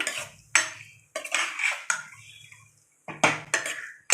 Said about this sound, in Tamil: இதை நல்லா கிண்டி விடுவோம் இப்படி கிண்டி விட்டுக்குவோம்